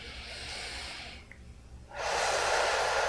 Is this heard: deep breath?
yes